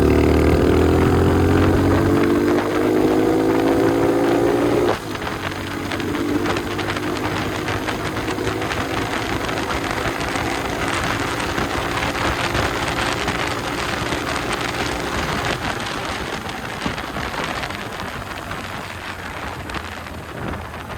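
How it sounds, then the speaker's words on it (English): An Icebear Champion 125cc motorcycle engine revs hard and high in fourth gear, its pitch climbing steadily, then holding a strained whine under a constant rush of wind. "that was a, you know, really high revs in 4th gear"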